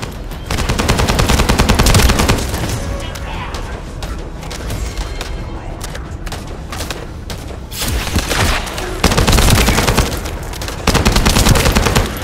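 Rapid machine gun fire in the video game The First Descendant, dense continuous bursts with short pauses and loud surges, close and heavy with occasional booms.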